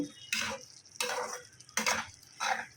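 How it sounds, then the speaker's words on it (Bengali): Sugar stirred into a fig curry in a pan, with four distinct bursts of spoon scraping against the pan at an even pace, close and fairly loud, with quiet gaps between them. "এই এতটা পরিমাণে একটু চিনি দিয়ে ভালো করে মিশিয়ে নেব।"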